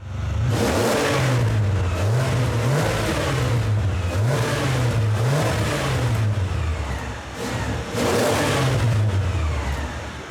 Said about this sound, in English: the quad exhausts give off the V12 sound